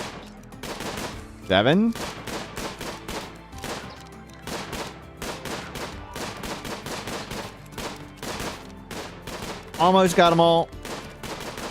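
Colonists in RimWorld fire guns in rapid, steady volleys of close, sharp shots that run throughout, with two brief louder bursts; a voice speaks briefly under the gunfire.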